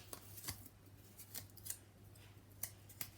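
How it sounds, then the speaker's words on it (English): Sharp scissors snip repeatedly into cover material while a hardback memory book is being made, each cut a quiet, crisp click spaced irregularly. "Snip into, scissors are stuck."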